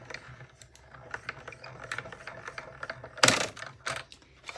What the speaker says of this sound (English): we'll just run that through our mini Stampin' Cut and Emboss machine